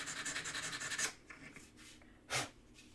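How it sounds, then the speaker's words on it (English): Hand sanding with coarse 200 grit sandpaper, a quick run of rhythmic rubbing strokes followed by a quieter pause and one more brief scrubbing pass, close and moderately loud. "I'm using some pretty heavy grit sandpaper just because I want it to go a little faster"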